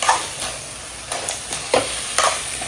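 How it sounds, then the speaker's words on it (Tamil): Crab pieces being stirred into onion masala frying in a pan, with a soft sizzle under a few separate scraping strokes of a spoon, close and without talk. "நண்டு சேர்த்து நல்லா கிண்டிக்கலாம்"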